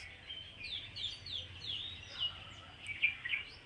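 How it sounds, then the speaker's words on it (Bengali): Birds sing from the trees around a rooftop in faint, repeated high chirps and short whistled phrases, heard from a distance over a soft background hush. "কি সুন্দর পাখির আওয়াজ"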